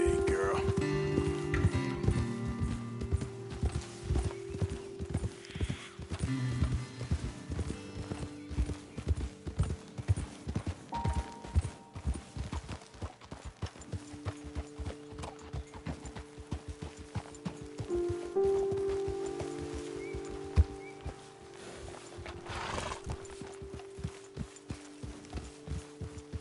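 Horses in the video game Red Dead Redemption 2 clip-clop along at a steady pace, hoofbeats loud and close, slowing near the end, with an occasional whinny and ambient music underneath.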